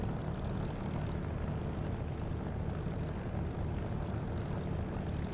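A steady, droning aircraft engine rumbles throughout in a DCS or War Thunder flight simulator, a dense broadband roar holding at a constant level with no rising swell and no talk.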